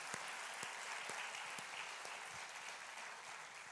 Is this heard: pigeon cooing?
no